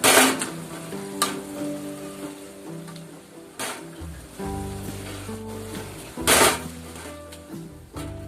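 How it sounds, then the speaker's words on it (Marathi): Pav bhaji masala mashed with a masher in oil in a home kitchen, a low bubbling sizzle broken by sharp, irregular thumps and clatters of the masher against the pan. "असं मॅशरने सगळं मसाला जो आहे तो आपण असं मॅश करून घेऊया चांगला."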